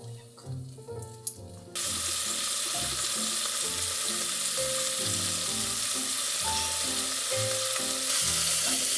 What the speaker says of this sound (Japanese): 鍋に油を敷いて明太子を焼く。